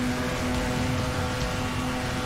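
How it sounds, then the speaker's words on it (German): Steady, dense rain hiss in the racing game FlatOut 4, a continuous wash of falling rain blended with a low engine drone, loud and unbroken throughout the short stretch. "Wie der Regen mir entgegenkommt."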